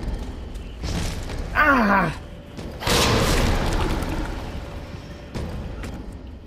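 Grenade explosion in Resident Evil 2 Remake, a heavy boom with a rumbling tail that swells and fades, preceded by a brief shout and surrounded by other in-game effects.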